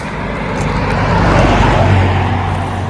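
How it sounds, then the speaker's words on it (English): A truck passing on a roadside, its rumbling engine and tire roar swelling as it approaches, peaking mid-pass and then easing off, loud and close with no talking over it. "here comes a truck"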